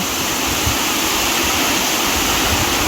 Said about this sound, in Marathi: हा पाऊस येतोय पाणी आतमध्ये येतोय